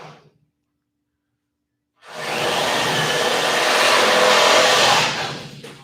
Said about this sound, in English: they're going to make some drill noise